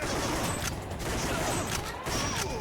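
Dense gunfire crackles from the Time Crisis arcade shooter, with rapid overlapping shots and brief gaps between short bursts, loud and close.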